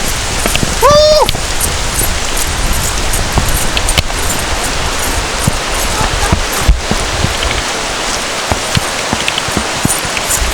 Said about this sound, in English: Guys, it's raining, so we have to seek refuge.